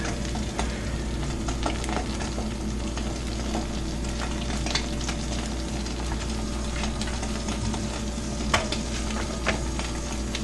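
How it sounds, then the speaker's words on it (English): Onion and tomato frying in a skillet for a huevo con tortilla dish, a steady close sizzle with scattered scraping and stirring clicks, no voices. "We start to drop this into the skillet with the ingredients"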